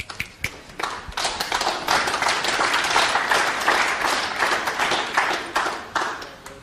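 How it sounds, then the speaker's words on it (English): Audience applause at a 2006 World Cup of Pool finals match, a dense, steady burst of many hands clapping that swells quickly and holds for several seconds before tapering off. "Everybody clapped."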